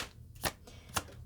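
Tarot cards riffle-shuffled in two quick, crisp bursts spaced about half a second apart, close up and moderately quiet over a low background hum.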